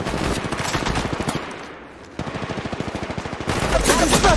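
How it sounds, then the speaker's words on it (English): Rapid automatic gunfire bursts in the mobile shooter game Apex Legends Mobile, loud and dense with a short lull before firing resumes even heavier, fast rhythmic shots filling the clip. "They're shooting at me."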